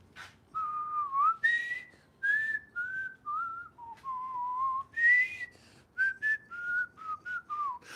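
A man whistles a melody alone, clear and close, in short tuneful phrases with small breaks between them. The notes glide up and down, and no one speaks over the tune.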